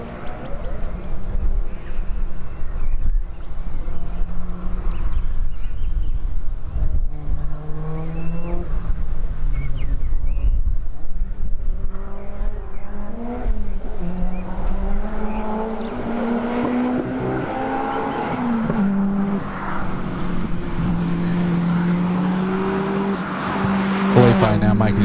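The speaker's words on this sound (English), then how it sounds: "Got Felipe Bunker making his way off the line in the Subaru WRX wagon." A Subaru WRX wagon launches and climbs a hillclimb course at Legend of the Lakes, its engine revving and shifting through rising and falling pitch sweeps, closer and louder toward the end, with a commentator talking over it.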